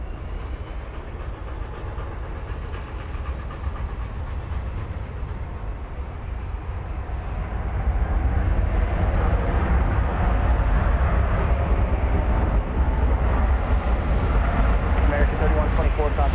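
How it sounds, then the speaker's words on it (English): An Airbus A321, flight 1578 to Phoenix, taking off at DFW Airport: a loud, steady broadband jet roar that grows noticeably stronger about halfway through and holds there. "cleared for takeoff, flight 1578. It's going to Phoenix. It's an Airbus A321."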